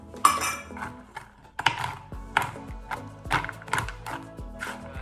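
Roughly a cup of mixed nuts goes into a chicken and vegetable stir-fry in a pan. A run of close, clattering metallic scrapes and taps repeats irregularly, with no talk.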